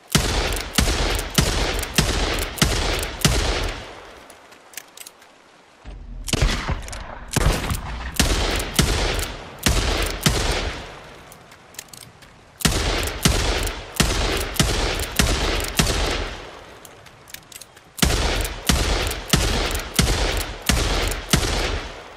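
Sheriff sidearm pistol fired in the video game Days Gone, with loud, close shots in rapid evenly spaced strings of about eight to ten rounds, separated by brief pauses for reloading.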